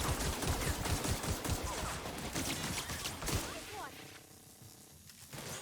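Rapid bursts of enemy gunfire in a sci-fi shooter, The Outer Worlds, crackling loud and dense for several seconds with a voice talking over it, then thinning out toward the end.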